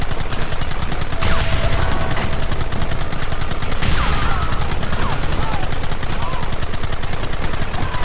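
Rapid gunfire from the video game Red Dead Redemption rattles continuously and loudly, dense repeated shots filling the whole stretch with no letup.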